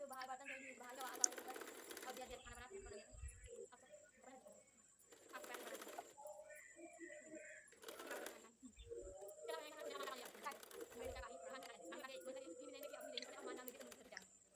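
Sewing machine stitching along the edge of a heavy 60-inch petticoat, running in several bursts with pauses between them, under a voice speaking in Hindi.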